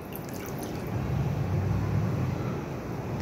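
A cup of milk poured into a bowl of cupcake batter ingredients, a continuous close liquid gush that swells in the middle and tapers off, with no talking.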